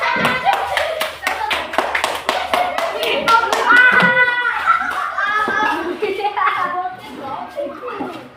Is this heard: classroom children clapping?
yes